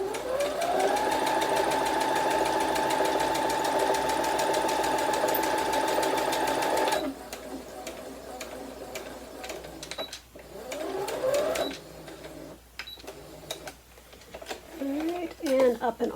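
Sewing machine stitching the seams of a handwoven Saori vest, a steady, close, rapid whirring drone for about seven seconds that then stops, followed by quiet handling noises and a person talking.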